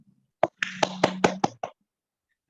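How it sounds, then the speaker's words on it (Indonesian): Children in a primary-school classroom clap their hands about six times in a quick, even burst, close and fairly loud, then stop. "Coba tepuk tangan dulu buat dirinya sendiri."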